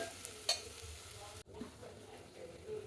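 Grated coconut frying in a pan for mango rice, a soft low sizzle with a spoon scrape and a brief clack, quiet and close, no talk.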